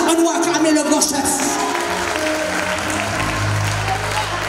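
A church congregation applauds in a sustained, dense wash of clapping with scattered shouts, and voices carry over the noise.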